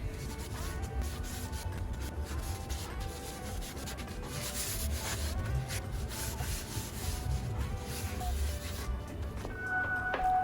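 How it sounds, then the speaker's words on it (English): Steady rubbing and scraping of sandpaper on a wooden planter, hand-sanded, continuous and close, with a rhythmic back-and-forth texture. "all that's left now is sanding and finishing"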